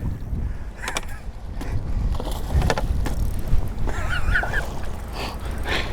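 Steady wind rumbles across Last Mountain Lake while walleye fishing, with lapping and knocking sounds near a boat and a few faint honking bird calls mixed in.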